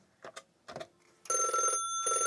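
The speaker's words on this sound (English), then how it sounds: "We have a dial tone." A telephone dial tone sounds after a few soft clicks and bumps, a steady electronic hum that pauses briefly and then resumes.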